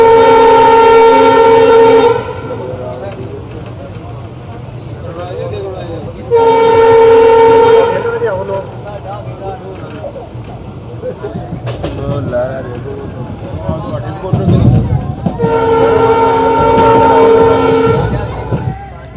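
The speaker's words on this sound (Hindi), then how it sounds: "दोस्तों ये ट्रेन आ चुकी है इसके 14वें हॉल्ट मकराना जंक्शन पर" A crowded passenger train runs through Makrana Junction towards Jaipur, its loud horn blaring in three long, separate blasts over a steady rolling rumble of carriages.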